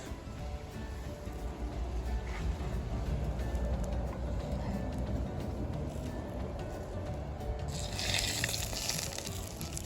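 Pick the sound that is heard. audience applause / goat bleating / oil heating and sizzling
oil heating and sizzling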